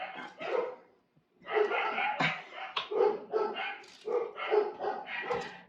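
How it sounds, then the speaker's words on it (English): Dogs bark and yip in frantic bursts during home cooking of French onion soup, close and loud, with a brief pause before the barking resumes nonstop. "It's cooking with barking dogs."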